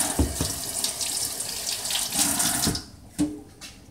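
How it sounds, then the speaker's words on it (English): Tap water splashing into a kitchen sink as hands are washed beneath it, a close, steady gush that cuts off near the end, followed by a few small drips and clatters. "As I quickly wash my hands."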